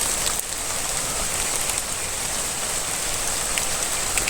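Heavy rain falling suddenly, a dense, steady downpour of drops pattering close on surfaces, loud and continuous with no voices.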